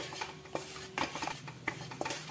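Wheat flour roasts in ghee for halwa while a spoon stirs it, producing a series of distinct scraping clinks against the pan over a faint background sizzle.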